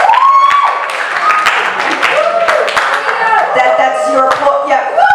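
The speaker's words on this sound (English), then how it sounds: "That's your applause" Single people in a stand-up comedy crowd at a fundraiser applaud and cheer, clapping mixed with whoops and voices; a tonal sound and scattered sharp claps run through the burst.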